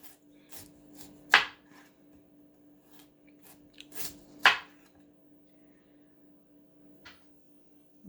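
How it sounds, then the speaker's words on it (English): A kitchen knife cuts food on a cutting board: a few sharp, distinct chops spaced several seconds apart, close by, over a quiet steady background hum. "I have it spiked on my cutting board so it doesn't move while I'm"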